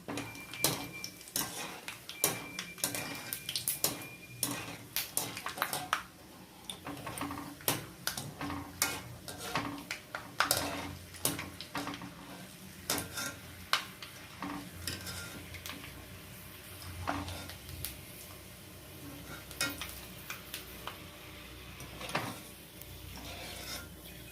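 Peanuts fry in a pan while being stirred, giving quiet scraping and rustling with scattered light clinks and taps in an irregular rhythm, no voices.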